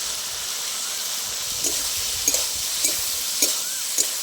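A paste of ground poppy seed and green chilli sizzling as it is stirred into a frying pan with ridge gourd and potato, a steady soft hiss punctuated by several sharp scraping stirs of a spatula.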